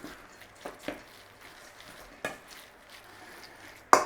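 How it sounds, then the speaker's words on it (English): A utensil stirs a chicken meatball mixture with garlic powder and onion powder in a bowl, producing a few soft scrapes and light clinks spaced apart, close and fairly quiet. "garlic powder, onion powder, and we are going to give that a little stir through"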